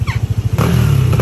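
A Yamaha Aerox V2 scooter with a 195cc engine, close and loud: a rhythmic idle putter gives way to a sudden rev into a steady, strong roar.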